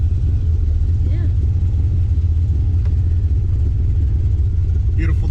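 A Mopar muscle car engine rumbles low and steady throughout a drive, loud and continuous, with voices talking inside the car over it.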